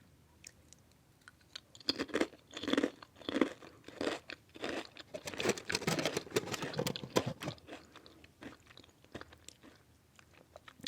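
Japanese butter potato crisps crunched close to the mouth, a quiet series of crisp bites followed by several seconds of rapid, busy chewing, with no voice.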